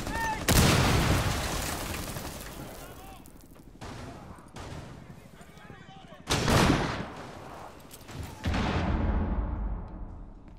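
Gunfire crackles in the Rainbow Six beta video game, several loud bursts separated by quieter gaps, with a voice speaking briefly between shots.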